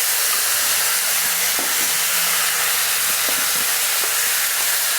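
Two large chopped tomatoes hitting a hot pan of lightly fried black peppercorns give a loud, steady sizzle and hiss that runs throughout, with faint pops and utensil clicks scattered through it.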